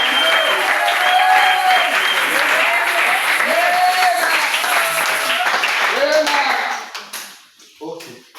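Church congregation applauding during a French-language sermon, dense sustained clapping with cheering voices that fades out near the end as a voice resumes.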